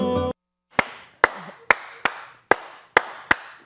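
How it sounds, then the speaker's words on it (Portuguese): Studio hosts of a Brazilian health talk show clap in a slow, even rhythm, seven sharp close hand claps evenly spaced after a brief burst of music. "Aplaudindo para você, que a gente aqui aplaude quem nos assiste"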